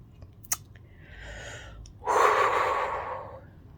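Heavy breathing during a dusty house clean-out: a faint airy breath around the middle, then a loud, long rough exhale that swells and slowly fades, with a small click near the start.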